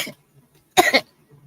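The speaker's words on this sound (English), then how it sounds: "I'm coughing." A person coughs at close range on a morning talk show, with a faint short sound at the start and then one sharp, throaty double cough in the middle, followed by quiet.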